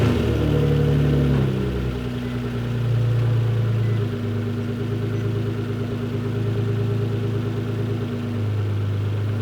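A Nissan GT-R with a check engine light runs steadily near the microphone, a loud low engine drone holding at idle with slight swells in pitch and no talking.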